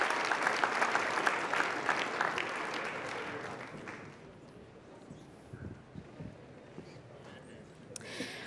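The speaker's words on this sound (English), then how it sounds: "I think she deserves another round of applause." Applause at a professional awards ceremony starts fairly strong, then fades over the first few seconds into scattered claps, with a voice speaking faintly beneath the tail.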